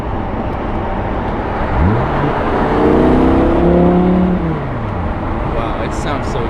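A first-generation Audi R8 engine revs up under acceleration, its pitch climbing smoothly and loudly for a few seconds before easing off, heard from inside the car over steady road and cabin rumble.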